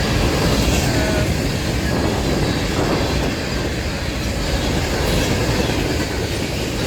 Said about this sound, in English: Oh boy, this is a big train today.